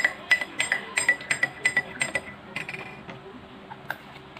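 A spoon stirs vinegar into water in a glass during a chemistry experiment, producing a quick series of sharp, ringing clinks that slow and fade into a few scattered taps.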